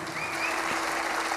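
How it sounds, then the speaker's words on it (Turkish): Concert audience at the MIR concert hall in Moscow applauding the accompanying musicians at a show, a dense steady wash of clapping filling the hall, with a faint tone lingering beneath. "Bu akşam da bana eşlik eden arkadaşlarım için büyük bir alkış istiyorum sizden."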